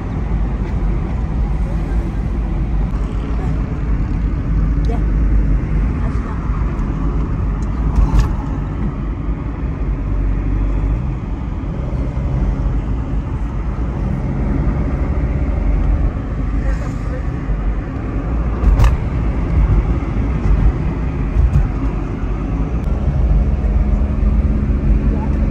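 Car driving on the road to Faisal Mosque, a steady loud engine and road rumble lasting throughout, with a voice talking over it.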